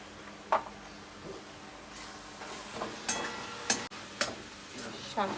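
A spatula stirs path shak greens with salt and turmeric in a pan, giving a soft sizzle under several distinct scraping strokes spaced a second or so apart; no one speaks.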